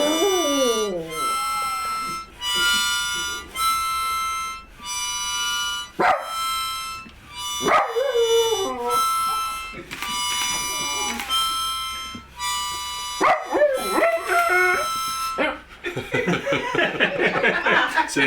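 A Chihuahua howls and sings on cue in a series of rising, wavering bursts, close and fairly loud, while music plays and people laugh and talk around it.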